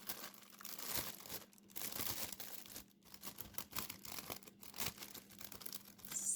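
A roll of very fine copper mesh being unrolled and handled, giving a steady, close crinkling and rustling that runs throughout with brief scrunching bursts and no voices.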